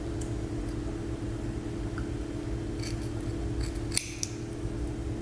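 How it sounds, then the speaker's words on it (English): Scissors snip through the brow section of a glueless closure wig's hair, a few crisp close cuts clustered near the end against a steady low hum, no voices. "cut the brow portion, cut this in 3 sections"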